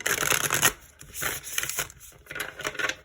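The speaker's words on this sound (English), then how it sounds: "So let's get one more shuffle, then we will begin." A deck of tarot cards riffled and shuffled by hand at close range, three bursts of crisp, rapid flapping separated by short pauses, with no talking.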